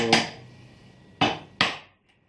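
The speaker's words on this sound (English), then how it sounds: "Same again on this side, turning the chisel around, flat to the back." A chisel is struck into timber while cutting a mortise, three sharp close knocks, one, then a pause and two quicker blows, each ringing briefly before fading to quiet.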